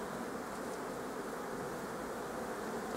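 Honeybees buzzing at a beehive during spring work in an apiary, a steady, continuous hum of many insects close by, with no talk over it.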